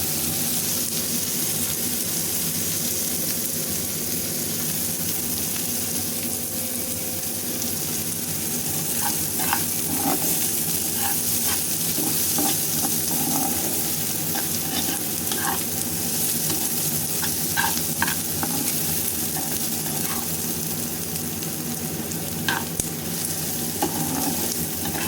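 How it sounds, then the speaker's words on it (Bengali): Onions fry in hot mustard oil, a continuous close sizzle and hiss lasting throughout, broken now and then by soft clicks and scrapes of stirring. "পেঁয়াজটা ভাজা প্রায়"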